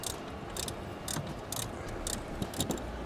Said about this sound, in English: Now we want to use a 13 millimeter ratchet. Just start tightening that down a little bit.